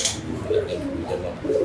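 A racing pigeon gives soft, low cooing calls, a few short throaty coos close by over a murmur of background noise.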